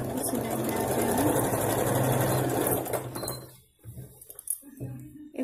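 A sewing machine stitches a baby chaniya choli, its fast, steady needle rattle running for about three seconds before stopping, followed by light handling clicks and a brief restart.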